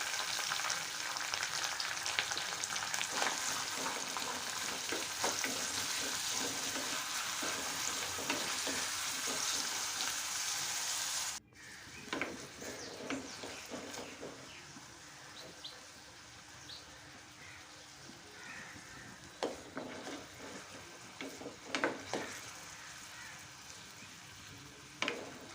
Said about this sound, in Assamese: পিঁয়াজখিনিও মই অকণমান পাতল ৰঙচুৱাকৈ ভাজিম